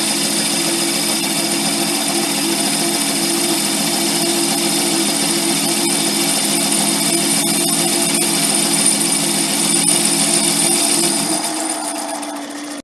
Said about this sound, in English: That's a pretty heavy load for this lathe, but it's doing it.